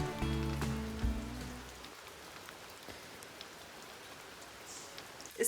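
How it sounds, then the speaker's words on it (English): Steady rain falls outside during a home renovation, a soft continuous patter heard from indoors, with music fading out at the start and a few faint knocks. "It's so rainy outside that we need a light now in here."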